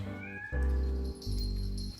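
A cat gives two drawn-out meows, close and clear, one right after the other.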